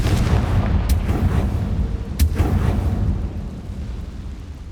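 Explosive fire-spell blasts from Hogwarts Legacy gameplay during a dragon fight: a dense, continuous roar of booming detonations with two sharp bursts cracking through, loud and close, no talking.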